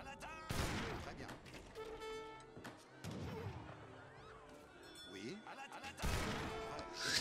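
French villagers in Age of Empires III fire musket shots in sharp bursts of several cracks, loud volleys near the start and end with scattered battle noise between and a voice talking faintly underneath.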